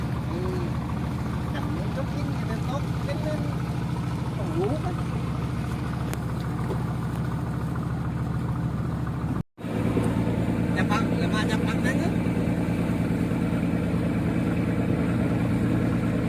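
A steady droning small boat engine runs throughout nearby, at sea in the Gulf of Thailand off Ko Kra, with constant wind-like noise and faint talk underneath.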